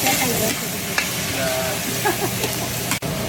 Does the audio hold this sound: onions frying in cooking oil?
yes